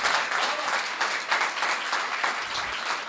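An audience at a Hindi poetry recital (kavi sammelan) in Maujpur applauds the poets with sustained, hearty clapping that swells and dips in waves, heard from within the crowd.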